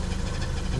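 A classic car engine running steadily, a low continuous hum with a faintly uneven pulse, heard alone in a short stretch.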